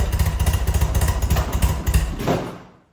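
A BMW R100RS motorcycle engine runs loud and close with a pulsing, uneven beat as the choke is cut, the rhythm stumbling before the sound fades away near the end.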